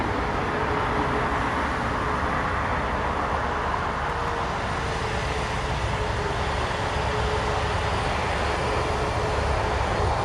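Steady, loud jet engine roar of an airliner at Toronto Pearson airport, a continuous broadband rush that holds for about ten seconds with no pause.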